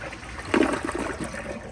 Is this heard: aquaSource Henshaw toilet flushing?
yes